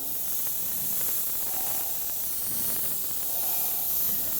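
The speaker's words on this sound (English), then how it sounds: "I'm just going to spray" A steady aerosol spray paint can hisses continuously at close range onto a miniature game piece, with slight swells in intensity and no voices.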